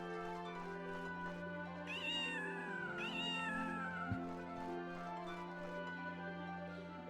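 Cats meowing in The Elder Scrolls II: Daggerfall (Unity), two rising-and-falling meows close together over a steady low droning background hum, followed by a soft thump, with no voices.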